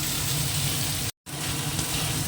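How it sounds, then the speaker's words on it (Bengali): Ginger sizzles alongside other ingredients in a hot pan, giving a steady, close hiss with a very brief dropout partway through and no talking. "সেটা একটু ভেজে নেওয়া যায় চমচাও নরম হয়ে যাবে আদাটাও ভাজা হয়ে যাবে"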